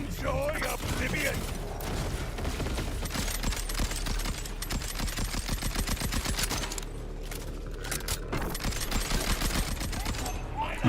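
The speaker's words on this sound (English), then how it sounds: "this Jacob's rifle's still holding up well" Rapid automatic fire from Jacob's rifle in a video game, loud and continuous bursts of repeated shots layered over game effects and music.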